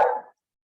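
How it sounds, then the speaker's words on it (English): A single short dog bark, muffled and somewhat distant, followed by silence. "My dog is barking."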